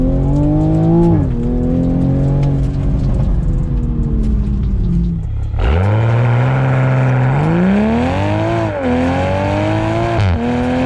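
Toyota A90 Supra making a launch control start: a loud, close engine drone holds steady, dips, then surges in a hard climb through several rising gear pulls with brief shift breaks.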